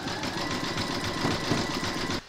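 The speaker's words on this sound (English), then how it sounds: "Pop your hoop into your machine and stitch round number 7, and that's going to zigzag over the top of the legs" An embroidery machine zigzag-stitches over a flamingo appliqué, joining the legs to the body. It makes a steady, close mechanical whir with a fast rapid rhythm for about two seconds, then stops abruptly.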